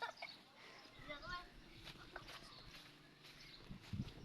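Chickens on a poultry farm cluck softly in the background while someone talks over them, with occasional footsteps and faint bird calls.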